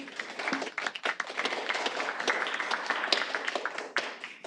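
Scattered, uneven clapping rises from people in a committee meeting room during a public planning and environment hearing, fairly faint and without speech over it.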